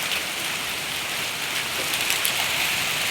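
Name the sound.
hailstorm, hail and rain falling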